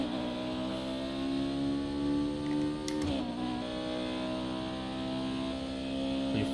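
An F1 2018 race car's engine screams at full throttle from the cockpit, a loud, steady high-revving whine with harmonics climbing smoothly through the gears and a brief shift blip midway.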